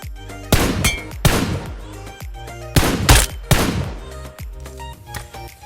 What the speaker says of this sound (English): Keep the headshot sound effect enabled because it's the sound of a headshot.